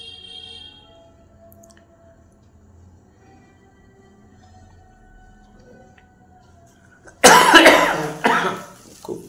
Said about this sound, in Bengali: খুব কাশি, সরি।